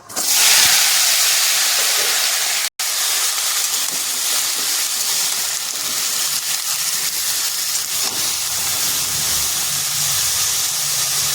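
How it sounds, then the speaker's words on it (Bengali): Cut potatoes hit hot oil seasoned with five-spice (panch phoron) and two dried chillies for Bankura-style aloo posto, giving a loud, steady, close sizzle that cuts out briefly near the start and then resumes. "এরপর দিয়ে দিচ্ছি কেটে রাখা আলুগুলো"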